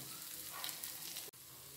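Evening snacks fry in hot oil over medium heat with a steady, close sizzle, broken near the end by a brief clack as a piece is flipped.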